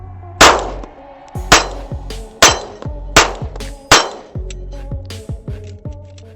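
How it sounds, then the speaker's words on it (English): Rifle shots fired with no muzzle device ring out as sharp, loud reports, five heavy blasts about a second apart followed by a few lighter metallic pings, each with a short ringing tail. "Let's go ahead and finish off these rounds without a muzzle device and go from there."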